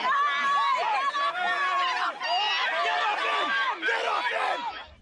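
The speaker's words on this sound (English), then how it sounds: "As the gates to Villawood Detention Centre opened, protesters clashed with police." Protesters clashing with police at the Villawood Detention Centre gates, a loud dense crowd of shouting and yelling voices, chaotic and continuous, fading at the very end.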